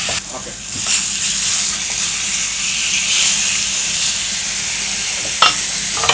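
Vegetables with carrots sauté in a hot pan, giving a loud, continuous sizzle and hiss throughout, with a few brief scraping stirs near the start and end.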